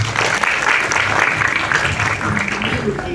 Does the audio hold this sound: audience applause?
yes